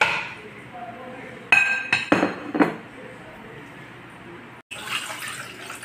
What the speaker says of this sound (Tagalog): Atin naman pong isusunod, ilaga ang isda. Lagay ko na po ang isda sa kawali.